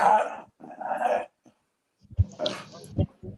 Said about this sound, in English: I hear a dog growling.